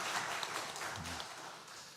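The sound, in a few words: congregation applause in church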